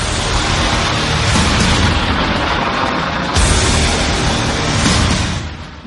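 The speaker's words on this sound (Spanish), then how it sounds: "de repente salen lanzados estos misiles de fuego impulsados por cohetes" Ancient gunpowder-propelled fire arrow rockets launching from bamboo tubes in a massed volley, a loud sustained roaring whoosh with a fresh surge midway, steady throughout before tapering off at the end.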